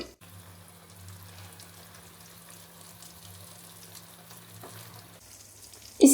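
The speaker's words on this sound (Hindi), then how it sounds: "आंच पर हम दोनों तरफ से गोल्डन कलर आने तक फ्राई करेंगे" Shami kebabs sizzle steadily in a pan over the flame, a soft continuous frying crackle with a low hum underneath, ending in a brief louder clatter.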